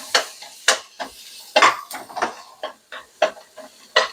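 Onion being stir-fried in a pan, heard as a string of sharp clanks and scrapes of a utensil against the pan, in irregular strokes roughly every half second, with a faint sizzle beneath.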